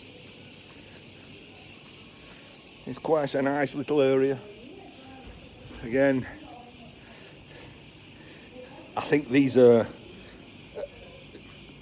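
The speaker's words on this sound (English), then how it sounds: "And you can hear the crickets, of course." Crickets chirp steadily in a high continuous drone outdoors at a path by a front door in Crete, heard under intermittent nearby talking.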